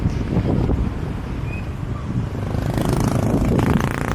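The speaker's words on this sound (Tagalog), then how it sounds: "napaka-presko ng hangin" Strong wind buffets the microphone in a steady rough rush, loud and close, with no voices heard, while riding a Honda Click 125 scooter through the Sierra Madre.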